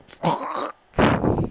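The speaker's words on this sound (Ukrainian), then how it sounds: "Собака, тікай!" A dog in the farming game Farming Simulator 22 lets out two short, close, strained barks with a whining edge, separated by a brief pause.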